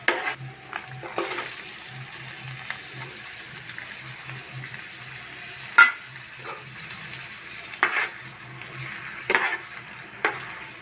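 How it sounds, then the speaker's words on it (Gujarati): Chopped tomatoes go into frying onions for pav bhaji, and a steady, moderate sizzle runs throughout with occasional sharp clinks of a spoon against the pan. "હવે આપણે ટમેટાને નાખી દઈશું।"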